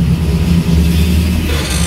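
A 1961 Ford Fairlane 500 fitted with a Holman Moody 428 Cobra Jet V8 revs steadily and loudly up close, its deep rumble sustained without pause and no talking over it.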